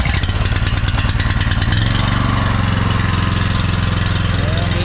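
A BCS 853 two-wheel tractor's small engine catches with a sharp burst of rapid firing pulses, then settles into a steady, loud idle close by.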